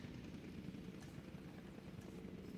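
A helicopter airlift in the Jurassic World Operation Genesis game collecting a dinosaur, a steady low rotor drone and engine rumble holding at moderate level throughout without any speech.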